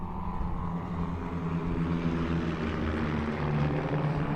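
A small, agile propeller trainer plane flies at a Veterans Day ceremony, its engine drone steady and fairly loud with a constant buzzing hum and no break in the sound.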